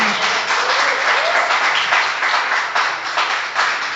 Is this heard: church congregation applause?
yes